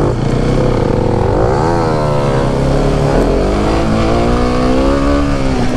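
A Husqvarna 701 single-cylinder motorcycle revving hard in first gear during a wheelie, loud and close, its engine note rising and falling in sweeping surges with no talk over it.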